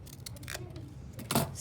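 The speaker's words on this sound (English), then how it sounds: "So I'm then going to cut this, and this is a little bit trickier to cut." Scissors cut paper for an elf hat collage in a few quick, close snips, with a louder, fuller cut near the end.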